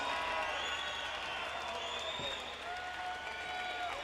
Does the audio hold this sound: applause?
yes